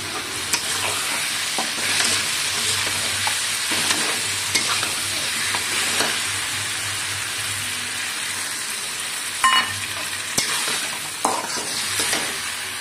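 Potatoes go into hot oil in a pan alongside an egg curry base, giving a loud, steady frying sizzle with scattered stirring clinks and crackles throughout.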